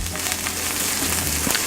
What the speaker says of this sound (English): This is a couple of cloves of chopped garlic here, and we're literally just going to let these sizzle